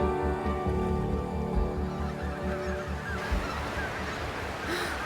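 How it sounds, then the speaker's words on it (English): Many geese flying overhead honking repeatedly in a steady, overlapping chorus, fairly close and loud, continuing without pause, on Scotland's north coast. "There are so many geese flying over at the moment."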